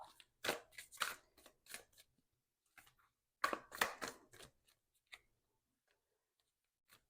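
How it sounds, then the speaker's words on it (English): Quiet bursts of riffling and snapping, like cards being shuffled, come in two flurries separated by a pause, close and without talk. "I'm just bad at shuffling."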